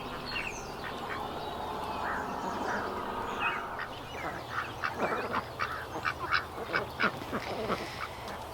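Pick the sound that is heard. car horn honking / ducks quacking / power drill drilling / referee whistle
ducks quacking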